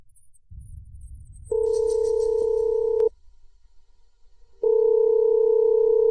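An unanswered phone call gives a steady electronic ringback tone in two long pulses, each about a second and a half, separated by a short silence. A faint low rumble sits underneath.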